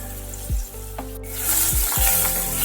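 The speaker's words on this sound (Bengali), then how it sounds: "কড়াইতে দিয়ে দিচ্ছি সর্ষের তেল তেল গরম হয়ে গেলে চিংড়ি মাছগুলো দিয়ে দিলাম" Shrimp frying in hot mustard oil in a wok on a gas stove, a steady sizzle with a few soft knocks and scrapes, rising a little louder toward the end.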